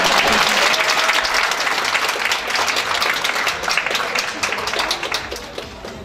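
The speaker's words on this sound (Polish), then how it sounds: "Proszę o brawa." Loud, sustained applause from an audience at a public event in Zielona Góra fills the room, dense and steady from start to finish, tapering slightly at the end.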